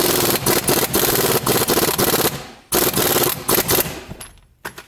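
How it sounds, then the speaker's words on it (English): Pneumatic impact wrench on high hammering off a timing chain bolt on a 2008-2012 Chevrolet Malibu Ecotec 2.4, loud rattling bursts with brief breaks, close by, ending in quieter clinks. "I interpret that torque spec as just put your impact on high and blast it"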